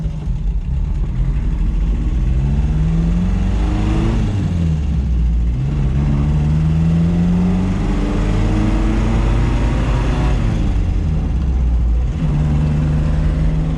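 A classic Fiat 1500 Rally driving on the road, its engine droning loudly and steadily with rising and falling pitch through gear changes, the sound close and continuous with no talking.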